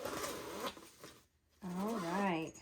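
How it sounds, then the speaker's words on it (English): A dual zipper on a carrying case for a 320-piece Ohuhu marker set is pulled open in a brief close rasp, and a voice follows. "So let's go ahead and open it and see what's inside. Oh, it's got a dual zipper here."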